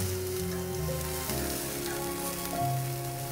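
Asparagus spears sizzling on a hot grill as a few at a time are flipped, giving a steady hiss and crackle under background music.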